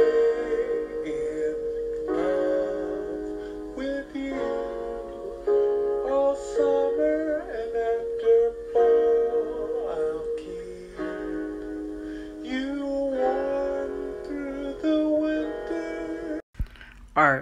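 Sampled music loaded on a Roland SP-404MKII sampler plays continuously for about seventeen seconds, dense and steady with sustained melodic layers, then cuts off with a brief burst near the end.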